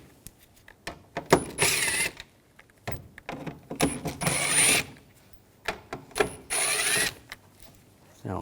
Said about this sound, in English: We're going to take these screws out up top, use a T25 socket